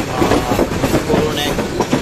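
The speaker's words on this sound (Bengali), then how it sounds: "লালমনি এক্সপ্রেস জয়দেবপুর রেলওয়ে স্টেশনে চলে আসলো" The Lalmoni Express rolls into Joydebpur railway station with a loud, continuous rumble and rhythmic wheel clatter, a brief squeal over the din and faint voices in the background.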